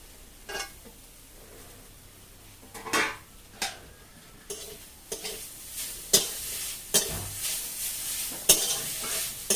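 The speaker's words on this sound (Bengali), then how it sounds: "প্রথমে একটু নেড়ে নেবো" Grated coconut is stirred in a wok, with irregular spatula scrapes and clacks against the metal that grow more frequent over a faint, steady sizzle, close by with no talking.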